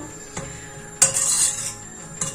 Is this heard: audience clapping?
no